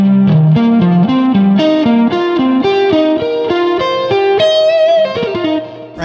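Distorted electric guitar picking a pentatonic scale in fifths, a steady climbing run of about a dozen double-stop notes ending on a longer bent note, loud and unaccompanied.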